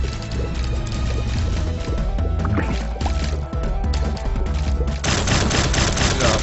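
Bomb blasts from The Binding of Isaac video game, a dense barrage of booming explosions layered over busy game music and effects, with a louder burst near the end.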